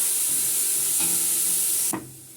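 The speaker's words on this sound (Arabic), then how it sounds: "احنا حطينا زيت، ومعانا بصلايه، وانا بقى نقلب كده لحد ما تتشوح" Onion stirred in hot oil for a seafood soup sizzles steadily and close, with a couple of soft scraping stirs, then the hiss drops off abruptly near the end.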